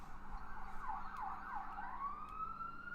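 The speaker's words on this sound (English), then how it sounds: "sirens going on outside my window" Emergency vehicle sirens wail outside a window, a steady rising and falling tone that stays distant and fairly faint over a constant background hum, with no talking.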